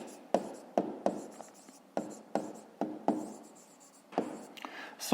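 Chalk or pen writing numbers on a board during a fifth-grade maths lesson on rounding decimals, a series of about ten short, sharp strokes and taps in an irregular rhythm, close and moderately quiet, with no talking.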